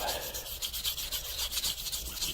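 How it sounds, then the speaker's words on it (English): Close hand sanding with 600 grit sandpaper, a quick rhythmic series of about a dozen back-and-forth rasping strokes. "So we just keep sanding away"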